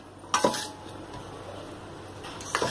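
Squash being mixed in a bowl while making a leftovers tortilla: two clusters of spoon and bowl clinks near the start and another near the end, with a quiet stretch between them.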